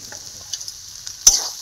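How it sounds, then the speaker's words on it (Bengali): Mashed potato and soybean mixture with salt and turmeric being sautéed in a pan, a soft steady sizzle with light stirring scrapes and one sharper clink near the end, no talking. "দিয়ে আবারও এটার সঙ্গে ভালো করে কষিয়ে নিতে হবে।"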